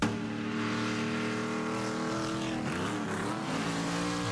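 NASCAR race car engines rev loudly and continuously, several motors droning together with rising and falling pitch partway through, and no voices over them.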